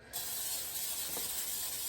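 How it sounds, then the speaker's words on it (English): A short burst of olive oil cooking spray hisses onto a bowl, starting abruptly and continuing steadily, close and fairly quiet. "now I'm just going to go ahead and spray this bowl"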